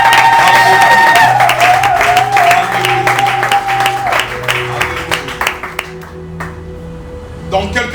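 A church congregation at a prayer-for-the-nation service breaks into loud, sustained applause, dense at first and then thinning into scattered claps, with a sustained tone and crowd voices underneath.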